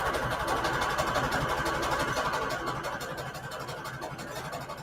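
A sewing machine runs steadily on fabric and lace, its needle chattering in a fast, even rhythm close by, slowing slightly toward the end without any speech.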